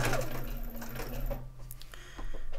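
A sewing machine stitches fabric for a dog bed, its fast mechanical whirr running loud and close before pausing into lighter clicks and handling noise, then starting up again near the end.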